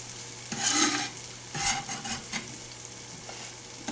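Three shallots sautéing in butter in a skillet, two bursts of loud close sizzling and stirring followed by a quieter, steady crackle of frying.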